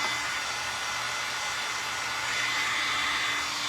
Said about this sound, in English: All I'm doing, y'all, is drying the wood that I put on here